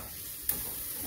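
Fenugreek mixture from a home garden roasting in a pan gives a steady low sizzle and hiss, with one brief louder stir or scrape partway through and no voices.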